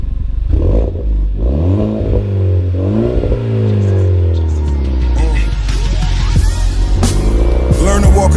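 A VW Polo GTI 6R with a Milltek exhaust revs and accelerates loudly up through the gears, its engine note climbing and dropping between shifts close up, with some talk over the drive.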